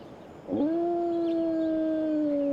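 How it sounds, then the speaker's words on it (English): In the video game HumanitZ, a single long, steady wolf or dog howl rises sharply, then holds a sustained tone, clear and fairly close over a soft ambient background. "howling wolves or dogs are a problem because they tend to run up on you"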